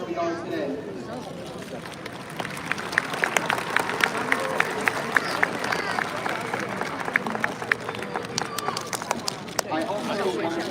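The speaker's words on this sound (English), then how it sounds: "let's take a moment to give a round of applause to the people who have helped us get to where we are today." Graduation audience applause at a college of science and engineering ceremony, a sustained wave of many hands clapping in a large hall with crowd murmur underneath.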